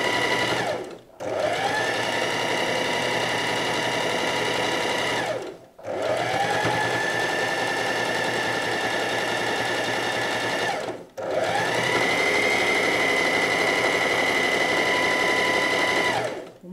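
A sewing machine quilts fabric in three long, fast stitching runs, each a steady close mechanical whir separated by short pauses, with no talking.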